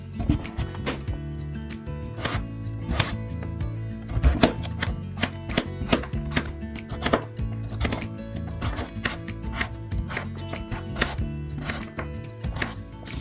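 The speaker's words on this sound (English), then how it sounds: "Grab a beetroot, peel it, chop it into small pieces." Peeled beetroot being chopped into small pieces with a knife on a board, a quick irregular run of close, crisp thuds continuing throughout with no talk.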